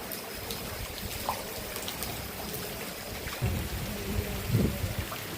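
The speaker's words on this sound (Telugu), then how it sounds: "వర్షం వచ్చేసి పైన పడుతుందండి." Heavy rain pours onto a roof during a night of thunder and lightning, a steady dense hiss with a couple of dull low thumps near the end, no voices.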